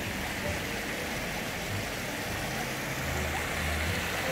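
An artificial waterfall spills over designed rocks from the swimming pool at the Hilton Hua Hin hotel, giving a steady, close rush of falling water that stays even and unbroken throughout, with no one talking.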